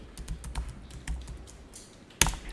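Keys tapped on a computer keyboard during data entry in an accounting software lesson, a steady run of light clicks ending in one sharper, louder keystroke.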